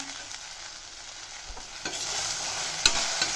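Okra being sautéed with salt in a pan: a soft continuous sizzle with the spoon scraping and stirring in a few distinct knocks near the end, close and moderately loud, no talking.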